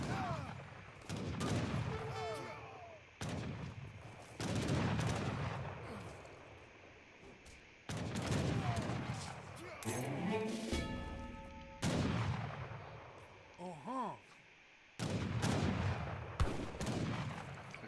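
Volleys of musket and artillery fire in Age of Empires III: Definitive Edition during a 2v2 Lakota versus Dutch battle, with repeated loud bursts of gunfire and booms plus synthetic game tones filling the soundscape continuously.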